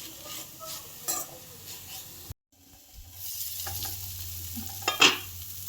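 Fenugreek leaf mixture is stirred and fried in a pan, a spoon scraping in repeated strokes over a gentle sizzle, briefly going silent before the frying resumes with a sharper metallic clink near the end.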